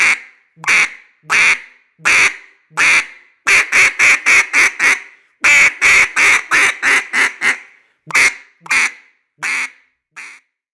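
A duck call blown by hand for hunting fires off loud, close quacks in quick rhythmic bursts, single notes then rapid runs of five or six, with brief pauses and no talking.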